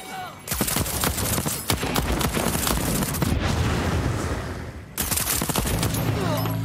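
Gunfire in the Deathloop video game, a loud, close fusillade of rapid shots and booming blasts, broken by a brief lull before another burst of fire.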